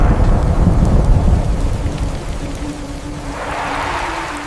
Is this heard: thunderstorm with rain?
yes